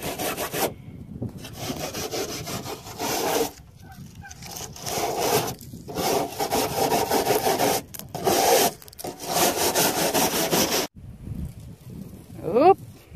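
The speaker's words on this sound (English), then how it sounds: "So we've sanded everything down so that we can leave some of this stuff on." Sanding a collaged car surface coated with Mod Podge, a steady rough scratching rasp in long strokes broken by brief pauses, close and fairly loud, with a short squeaky scrape near the end.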